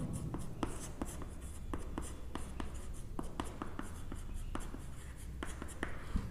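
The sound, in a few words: writing on a board during a physics lecture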